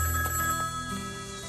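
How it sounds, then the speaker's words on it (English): A payphone ringing with a bright, electronic trill that holds steady and fairly loud across a brief moment, with no voices over it. "It's just a payphone, sir."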